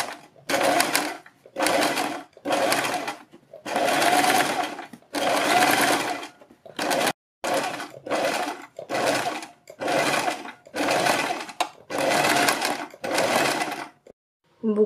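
A sewing machine stitches around a neck design backed with buckram, running in about a dozen loud, close bursts of rapid mechanical whirring separated by short pauses.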